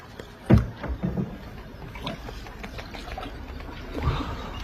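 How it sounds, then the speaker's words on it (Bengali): A small boat carrying four people glides across water in Kashmir, with a few soft paddle splashes and a gentle, continuous wash of water against the hull. "দোলন, মনা, আমি, মজিব, 4 জনই আছি এখানে নৌকায়।"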